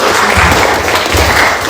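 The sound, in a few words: classroom applause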